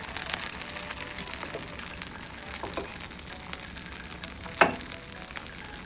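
Oil poured around a cucumber dosa sizzles and crackles softly on a hot pan, a faint steady frying hiss with one brief louder clatter partway through.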